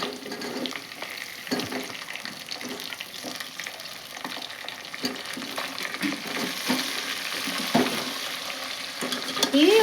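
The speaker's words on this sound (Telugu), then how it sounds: "ఇట్లా ఆయిల్లో ఫ్రై చేస్తే చాలా బాగుంటాయి బెండకాయలు" Okra frying in hot oil in a pan, a continuous close sizzle with frequent stirring scrapes throughout, fairly loud and steady, no voices.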